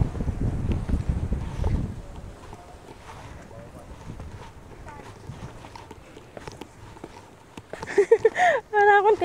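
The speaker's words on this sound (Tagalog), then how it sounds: "Pakalakas ng hangin dito." Strong wind buffets the microphone on a hilltop in the Tayak Hills, a heavy low roar in the first seconds that eases into a steady blustery hiss, with people talking and brief vocal sounds near the end.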